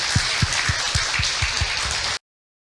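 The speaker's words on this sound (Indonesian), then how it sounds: "tepuk tangan Ibu untuk Abi ya" Steady applause from a women's congregation at an Islamic lecture, dense clapping with distinct rhythmic beats standing out, close and fairly loud, ending abruptly.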